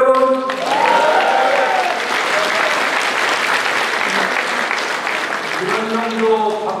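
Party members at a People Power Party rally in South Chungcheong cheer and applaud, a loud sustained crowd roar of clapping with a voice calling out over it at the start and end.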